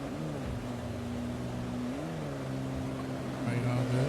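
A Chevrolet Camaro in a Forza Horizon 6 quarter-mile drag race, its engine droning steadily with pitch rising and shifting as it accelerates, loud and continuous, with other race cars in the mix and a voice talking over it.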